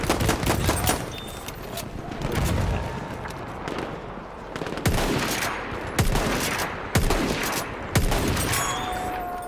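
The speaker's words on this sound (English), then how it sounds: "That only took 4 fucking shots to kill that guy." Rapid gunfire in the War Pigeons video game, with loud bursts and single sharp shots cracking in quick succession over continuous battle noise.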